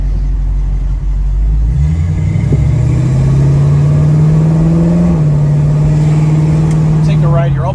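A 1968 Ford Mustang Eleanor kit car drives, with a loud engine drone that rises as it accelerates and then holds steady under road noise, while a person talks throughout.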